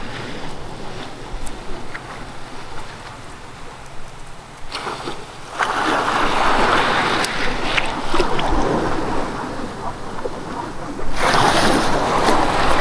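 Big sea waves surge around a small fishing boat out at sea, a constant rush of water and wind buffeting the microphone, swelling into louder breaking washes partway through and again near the end.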